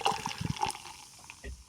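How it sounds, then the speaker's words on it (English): Craft beer poured into a glass, a short burst of liquid splashing and trickling with faint fizzing, fairly quiet and close, with some background murmur. "He loves it when we pour the beers into the glass and he hears the fizzing sound"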